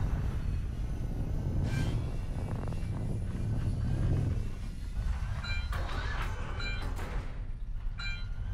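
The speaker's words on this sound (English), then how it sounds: "Retribution, Scar 1 requesting permission to land." Spaceship Retribution coming in to land on a runway in Call of Duty: Infinite Warfare: a loud, steady engine roar with rumbling low end and brief whining tones, continuous throughout.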